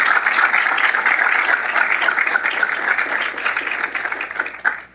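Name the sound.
audience applause for Dr. Feulner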